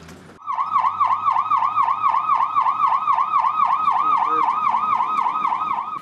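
An ambulance siren wails loud and close in city traffic, its rising-and-falling cycles repeating steadily for about six seconds over a low traffic rumble, with no talking.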